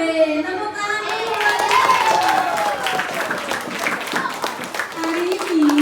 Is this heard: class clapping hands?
yes